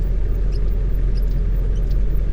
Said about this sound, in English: Hear that? It's the sound of the clutch.